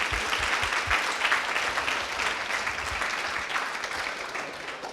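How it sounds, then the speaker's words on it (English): Audience at a coding bootcamp demo day in Montreal applauds the team, a full room of steady clapping that holds evenly and tapers slightly toward the end, with no voices on top. "We can applaud them again."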